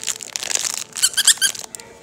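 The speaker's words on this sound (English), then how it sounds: "Flip it around, it's squeaky too." A squeaky toy elephant, handled by a baby at play, gives a quick run of bright, close squeaks after a stretch of crinkly rustling.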